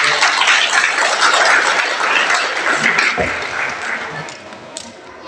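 A church congregation at a women's anniversary celebration claps loudly and steadily, a dense wash of applause that gradually thins toward the end.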